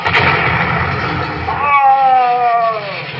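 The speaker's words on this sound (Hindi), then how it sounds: "लेकिन तभी तोप का एक गोला इनीगो के पैर पर लगा" Cannon fire booms loudly as a sound effect during a school stage play about Saint Ignatius of Loyola, heard as a heavy blast that rolls out into a long fading rumble, with a narrating voice running over it.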